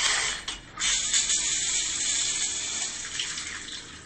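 A shower runs in the video game BioShock Infinite, giving a loud, continuous hiss of spraying water that stays steady throughout, with a few faint mechanical clicks near the start.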